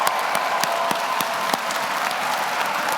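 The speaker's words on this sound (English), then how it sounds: "How about a big round of applause for our 2024" Steady applause from a crowd at a nursing pinning ceremony, dense continuous clapping with a few sharper individual claps standing out, sustained for the whole stretch.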